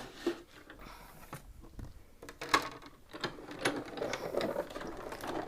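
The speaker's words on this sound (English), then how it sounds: "let's go ahead and just die cut this so you can see the difference" A die cutting machine cranks a stamp shadow die through its rollers, producing a run of close mechanical clicks and ratcheting rattles that grow busier and more continuous toward the end, with no voices.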